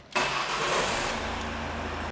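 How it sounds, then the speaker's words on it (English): A Ford Mondeo with a Powershift transmission starts up, the engine catching with a loud burst and settling into a steady idle for a couple of seconds before cutting off, close and without talk. "you will then start the engine up."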